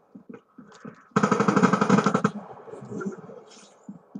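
A rapid burst of automatic gunfire in a Call of Duty Black Ops 3 hardcore free-for-all match, about a second long and loud, framed by quieter in-game clatter.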